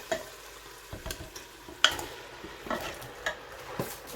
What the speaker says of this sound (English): Right now I'm going to add my spinach to inside.